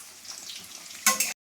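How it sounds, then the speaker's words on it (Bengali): Eggs fry in a pan until browned. A soft hiss swells into a loud, bright sizzle burst, then stops abruptly. "ডিম ভাজছি, লাল লাল করে ডিম ভাজবো"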